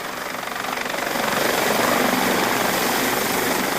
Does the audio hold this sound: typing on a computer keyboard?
no